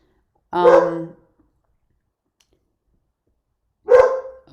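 Two separate barks from a single dog, one near the start and one near the end, loud and close with silence between them.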